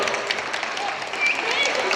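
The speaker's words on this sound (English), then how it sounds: "So let's have a small applause for nitrogen." Short, modest round of applause from an audience at a school chemistry experiment demonstration at an exhibition, dense clapping for about two seconds with some voices underneath.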